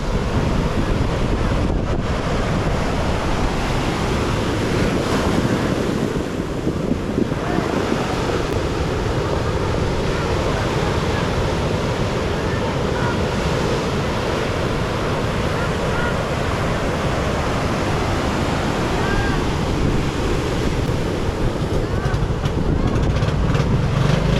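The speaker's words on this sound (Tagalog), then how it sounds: "Oh, yan ang alon na malalaki." Large ocean waves break around a fishing boat out at sea, making a steady, loud roar that is mixed with heavy wind buffeting the microphone and continues throughout without pause.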